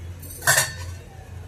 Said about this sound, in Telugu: గిన్నె పెట్టేస్తాను, మూత పెడుతున్నాను.